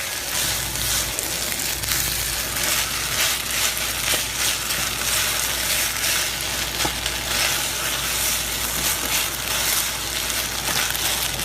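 Ground meat with a little ketchup sizzles steadily in a pan while being pressed flat to crisp, a loud, dense frying hiss with light scraping and crackles running throughout.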